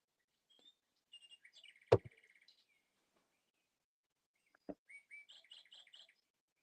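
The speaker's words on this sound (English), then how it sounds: "did you hear Chubby Bird" A small bird chirps in two short bursts of quick, high notes separated by silence, with a couple of sharp knocks in between.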